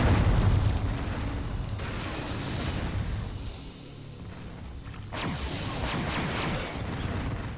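Concussion missile explosions in the video game Descent Vertigo, set in an ore mine level: a steady run of heavy, rumbling booms and bursts, loud and continuous, with no talk.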